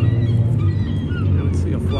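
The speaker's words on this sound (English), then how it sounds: "That's a flock of seagulls." Gulls calling in a flock at night in Las Vegas, loud honking cries that repeat over a low rumble, with voices mixed in.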